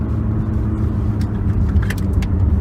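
BMW M2 with the N55 engine in sport mode, a loud, steady engine drone heard from inside the car while driving, with a few light rattles near the end and no talk.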